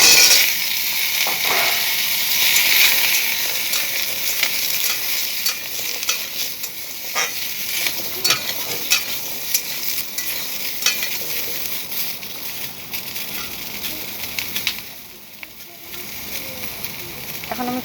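Potatoes fry in a pan of oil over dried red chillies and five-spice tempering, a close, steady sizzle with occasional clicks and crackles that fades briefly before resuming.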